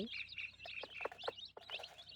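A native village hen on a poultry farm gives low, soft clucking calls to her chicks, which peep in high, thin chirps nearby, fairly quiet.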